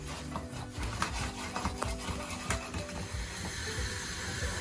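Spoon stirring a spoonful of praline into melted white chocolate in a bowl, giving a steady run of soft scraping and rubbing scrapes with small clicks, close and moderately quiet, with no talking.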